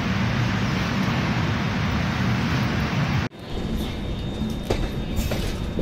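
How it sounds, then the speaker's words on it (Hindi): The Shatabdi Express, an Indian Railways train, runs on rails: a steady, loud rumble of wheels and carriage noise, then a sharp shift to a quieter rolling sound with faint clicks and squeals. "सहारनपुर पर 39 मिनट रुके रहने के बाद शताब्दी एक्सप्रेस अब चल चुकी है अपने अगले स्टॉपेज की तरफ।"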